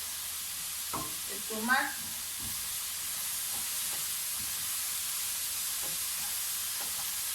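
Whole cherry tomatoes dropped into a hot frying pan hiss with a steady sizzle, a brief sputter and clatter as they land, then an even frying hiss throughout.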